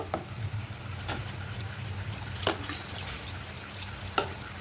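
A spoon works through a sweet batter mixed with half a spoon each of baking soda and baking powder, giving close, steady stirring with a few sharp knocks against the bowl and no speech.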